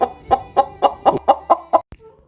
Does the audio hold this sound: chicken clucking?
yes